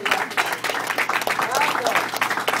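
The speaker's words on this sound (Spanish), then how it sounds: "Den un aplauso al Señor." Church congregation applauding in a dense, steady wash of clapping through the whole stretch, with voices mixed in beneath.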